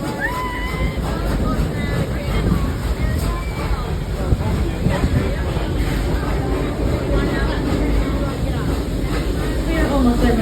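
A zoo tour train runs on rails with a steady, close rolling rumble that continues throughout, while people talk and murmur over it.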